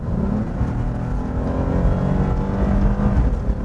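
A 2014 Lexus IS 250 in sport drive mode, its engine note climbing and holding high revs, a continuous smooth hum heard from inside the cabin, moderately loud and steady.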